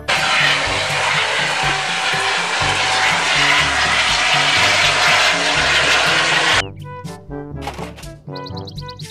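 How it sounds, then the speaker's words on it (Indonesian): A helicopter's loud, steady engine and rotor roar fills most of the recording without a break, then cuts off abruptly and gives way to unrelated tonal sounds. "Helikopter."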